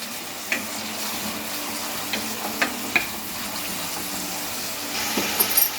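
Whole cumin and a bay leaf fry gently in oil, making a steady, soft sizzle with a few light clicks from a utensil. The sound stays close and even, with no speech.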